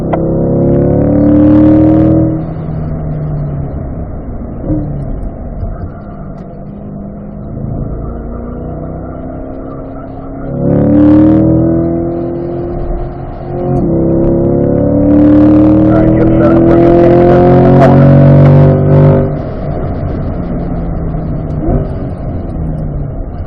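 A car accelerates hard on a race track during a track session, engine note rising in repeated loud runs through the gears with brief lifts between pulls, close and continuous.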